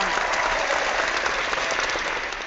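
Audience applause fills the room steadily and loudly, a dense continuous clapping from a live crowd at a talk about heaven, holding at an even level without pauses.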